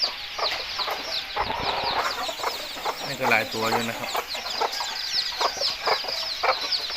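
Several chickens cluck and chirp nearby in a busy, scattered chorus, while someone speaks briefly over them.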